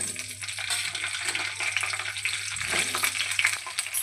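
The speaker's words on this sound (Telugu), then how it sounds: "పచ్చిమిరపకాయలు వేసుకొని మంచిగా ఇవి గోలాలి. నూనెలో మధ్యలో మధ్యలో కలుపుతూ ఉండాలి." Green chillies fry in oil in a kadai with a dense, crackling sizzle. Intermittent stirring scrapes are close and clear, with no talking.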